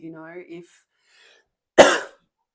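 A brief voiced sound, then after a short silence one sharp, close cough that rings out alone.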